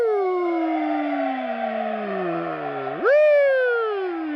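A wailing ambulance siren sounds loud and close, its tone gliding slowly downward before jumping sharply up and sweeping on, with no voices over it.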